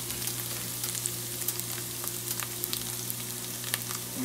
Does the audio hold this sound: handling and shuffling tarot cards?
no